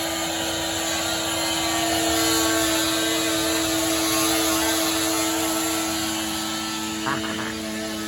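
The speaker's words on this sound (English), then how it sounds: "The frame is, the inside drywall is being cut out with the multi-tool." An oscillating multi-tool cutting out the inside drywall of a window frame: a loud, steady, high buzzing drone that runs unbroken throughout, with a brief change in pitch near the end.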